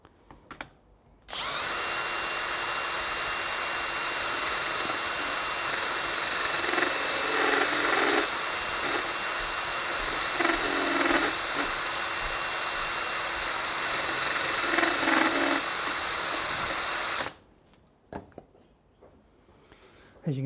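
A valve seat grinder dresses 45-degree stones during Moto Guzzi Le Mans valve seat work, giving a loud, steady high-pitched whine that holds for about sixteen seconds before stopping abruptly.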